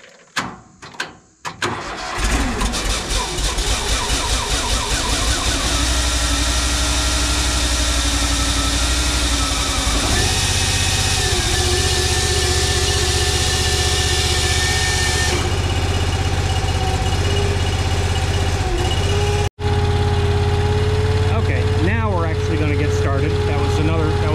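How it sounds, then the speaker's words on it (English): A Cord King firewood processor engine starts and settles into a steady, loud mechanical run with a constant drone, close by, with talk faintly in the mix. "as soon as I start it, the blade's going to start spinning"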